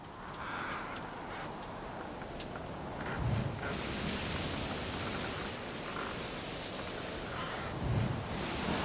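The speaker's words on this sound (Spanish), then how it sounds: "Es la mañana temprano con el sonido del mar Mediterráneo" Mediterranean Sea waves heard from a hotel terrace in Akko, Israel, a steady broadband wash of surf with gentle swells rising and falling, mixed with light wind.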